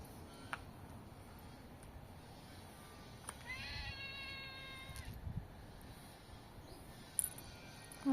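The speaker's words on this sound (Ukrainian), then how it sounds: "Стою під укриттям, а там коти." Cats meow a few times outdoors near a shelter, thin and fairly distant, over a steady background hiss with occasional clicks.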